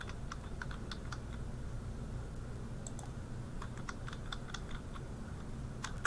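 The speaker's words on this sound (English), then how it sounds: "I'm going to type in memory." Keys tapping on a computer keyboard while a search word is entered, a loose run of light clicks over a steady low background hum.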